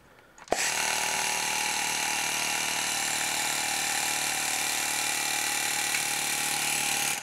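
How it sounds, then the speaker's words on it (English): A Nerf Fortnite GL blaster modded with a pneumatic air pump on a 3S LiPo battery fires once with a sharp pop, then its pump runs as a steady, loud mechanical drone that holds until the end. "So when I pull this trigger, it should shoot and then continue pumping."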